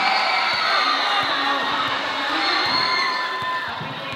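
A crowd at an island basketball game shouts and cheers in a dense, loud, sustained roar, with sharper individual yells and whoops cutting through the noise.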